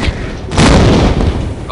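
A centaur enemy exploding in the 1996 Tomb Raider game in the Atlantis level gives a single deep boom that swells and then rumbles away. A voice is heard faintly beneath it.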